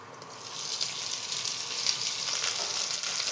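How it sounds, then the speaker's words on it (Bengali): Boiled potatoes fry in hot oil with asafoetida in a home kitchen, a close, continuous crackling sizzle that builds slightly over a few seconds, with no voices. "আলুটা ভেজে নিতে হবে।"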